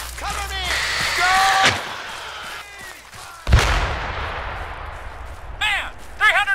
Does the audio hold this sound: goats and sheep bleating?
no